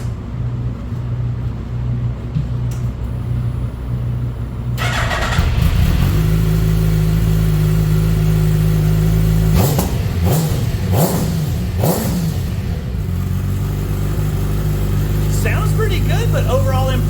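A Gen 3 Suzuki Hayabusa fitted with a Yoshimura titanium dual full exhaust settles into a low idle, then fires up louder and gives several sharp throttle revs that rise and fall. People talk in the background.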